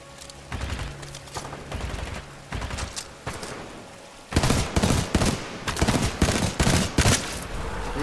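Burst-fire gunshots in Titanfall 2 crack out as rapid, loud volleys in repeated clusters. They grow denser and heavier midway through, with mechanical clicks between bursts.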